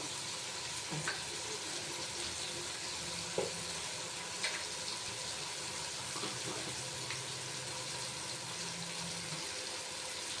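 Rajma masala curry with turmeric is stirred in a pan over a quiet, steady sizzle, with occasional soft knocks and scrapes of the spoon against the pan.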